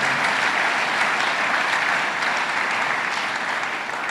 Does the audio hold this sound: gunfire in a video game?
no